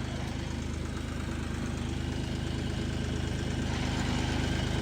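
A new tractor's engine idles steadily at close range, a continuous low rumble with fine mechanical pulsing and no voices over it.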